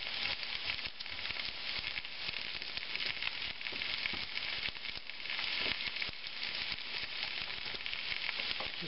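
Diced onions frying with potatoes and bacon in a pan make a steady, even sizzle that runs unbroken and fairly quiet throughout, with no voices.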